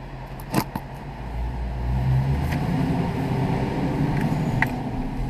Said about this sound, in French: Vous entendez le bruit du moteur de ma voiture?